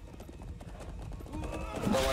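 Horse hooves clop faintly in a video game, a quick run of soft steps under game noise and a rising tone toward the end.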